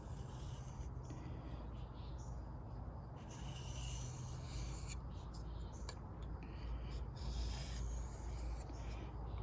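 A Kershaw Trace knife being sharpened, with a steady scraping and rubbing of the blade on an abrasive in repeated strokes, fairly quiet, close, and without talk over it.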